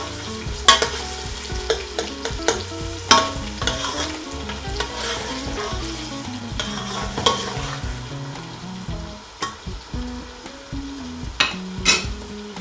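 Onions fry in a pan with a constant sizzle, while a spoon stirs and scrapes against the metal in irregular, close knocks over a dozen seconds.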